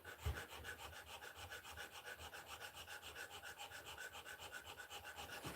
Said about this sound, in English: Right now I'm sanding these edges.